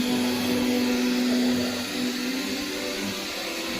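A machine grinder cuts a groove along a crack in a house wall before crack sealant goes in, giving a steady, loud, high-pitched whine with a humming tone that stays continuous throughout.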